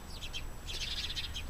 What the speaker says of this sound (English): Birds are happy this morning.